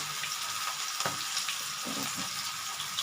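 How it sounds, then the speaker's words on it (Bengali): Banana flower fritters (mochar bora) fry slowly in oil over a low gas flame, giving a steady, soft sizzle and crackle throughout with a brief stir or clink near the middle and no talking. "গ্যাসের আঁচ কমিয়ে আস্তে আস্তে করে ভাজা হবে এটা হচ্ছে মোচা"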